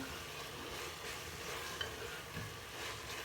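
Potatoes fry with spice masala in a pan, giving a steady close sizzle throughout. A couple of faint stirring scrapes sound beneath it.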